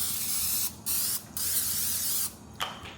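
Three short hissing bursts of cooking spray onto a baking pan, close up, separated by brief pauses, with no talking.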